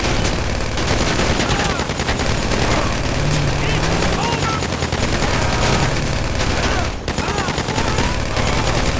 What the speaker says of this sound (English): I was just shooting every vehicle to make sure.